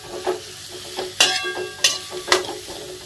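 Carrot and capsicum tossed into a pan and cooking, a light sizzle broken by several sharp scraping stirs and clinks of a spoon against the pan at an uneven pace.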